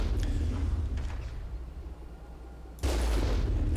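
Weapon fire in Mass Effect as the Mako exchanges shots with a distant Colossus: loud sustained blasts with dense crackle that fade briefly, then another burst erupts near the end, no talking.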